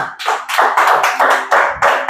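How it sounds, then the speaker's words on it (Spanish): A church congregation claps in unison, about eight loud, sharp rhythmic bursts of many hands in a quick steady beat, close and without speech. "Dele palmas al Señor"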